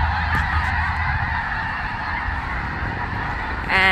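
A flock of snow geese at a park honks continuously and loudly: dense, overlapping calls nearby that fill the whole stretch without a break.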